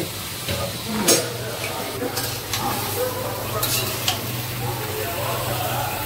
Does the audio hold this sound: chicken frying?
yes